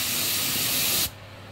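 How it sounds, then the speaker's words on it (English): A loud, close hiss of polypropylene coating being sprayed onto BIC lighters during printing runs steadily for about a second, then cuts off abruptly, leaving quiet room noise. "Now we are spraying that with a poly prop."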